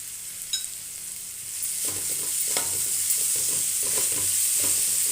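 Ginger garlic paste sizzles and is stirred in a hot pan while fried rice is cooked, a steady frying hiss with scraping spoon strokes, close and fairly loud.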